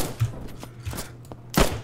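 Scattered rifle shots from a Roblox Trenches battle, a few separate booming cracks spaced irregularly, the last one loudest and closest.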